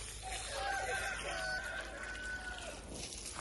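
Chickens cluck and call nearby against a steady background hiss, with a brief rustle at the end.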